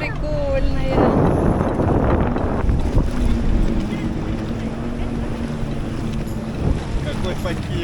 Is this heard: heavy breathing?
no